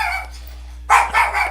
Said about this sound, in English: The dog saw something outside the window.